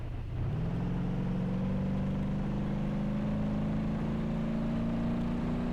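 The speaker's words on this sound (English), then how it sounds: "Maybe I'm getting a little too brave accelerating there." A truck engine in the BeamNG Drive driving game revs up after a soft start, then holds a steady, loud drone whose pitch climbs slowly as it accelerates. No talking is heard.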